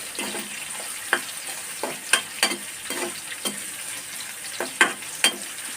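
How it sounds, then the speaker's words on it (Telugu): Seeds roasting in a pan while being stirred, a soft dry sizzle broken by a series of sharp scraping clicks every half second or so, close and alone. "ఇవి కొంచెం పచ్చివాసన పోయేంత వరకు వేయించుకోవాలి."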